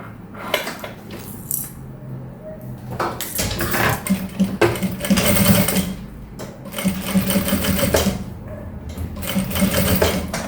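Close and fairly loud, a sewing machine stitches all the way around the edge of a fabric pouch, its rapid needle clatter running in steady bursts with small pauses and metallic clicks.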